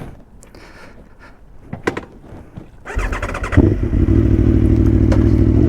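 A motorcycle engine idles and then rises to a steady, loud running drone while the bike sits in gear on a hill during a touring ride, with a few clicks and knocks just before it builds.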